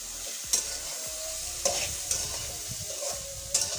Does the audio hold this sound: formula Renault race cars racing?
no